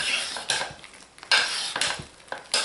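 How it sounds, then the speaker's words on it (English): Hot-process lye soap being stirred in a crockpot, with a knife also cutting through the creamy mixture: irregular scraping and sloshing strokes against the pot, close and moderately loud, with brief pauses between strokes. "I'm gonna stir this in."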